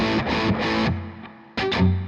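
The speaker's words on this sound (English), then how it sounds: "let's turn up the reverb." An electric guitar played through a Capital Chambers reverb plugin, with a few distorted chords ringing and decaying into a reverb tail, a short pause, then two more loud strummed hits.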